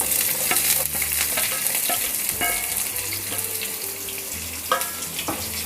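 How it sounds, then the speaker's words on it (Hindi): Roughly chopped onion fries in a hot pan for bread upma, a steady close sizzle broken by repeated scrapes and clinks of a spoon stirring, with no talking. "तो प्याज को हमें हल्का हल्का गोल्डन ब्राउन करना है"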